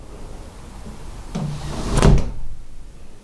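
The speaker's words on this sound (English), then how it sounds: "I'm going to jump off camera for a second and close that door" An interior door is pushed shut in a home during a security-system setup, giving one solid, mid-distance thud with a short latch click, set against quiet room tone.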